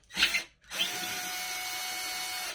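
Power screwdriver working screws out of a wooden chair during reupholstering, a short whir then a longer steady motor whine, close and loud with no talking.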